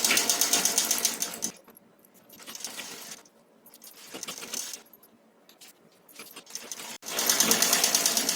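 A sewing machine runs in bursts, stitching a straight edge of cloth for a one-year-old girl's nauvari saree. Loud stretches of whirring open and close the clip, with quieter, intermittent runs in between.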